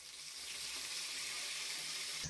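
Curry leaves and cashews sizzle hard in hot oil while tempering for tamarind rice made from leftover rice, a steady, close, bright frying hiss with no talk.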